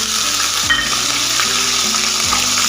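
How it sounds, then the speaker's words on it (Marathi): Chopped onion frying in spice masala for dum aloo gives a loud, constant close sizzle, with a few stirring scrapes breaking through and no voices. "आपण ते बारीक केलेला कांदा टाकूया."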